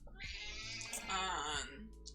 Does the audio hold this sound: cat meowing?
yes